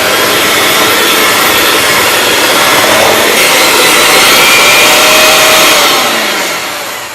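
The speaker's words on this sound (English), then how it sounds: "now we have our dry and wet ingredients combined, so I'm going to mix those up" A hand or stand mixer whirs continuously as it works dry and wet chocolate chip cookie dough ingredients together, a loud steady motor drone that fades slightly near the end, with no talking.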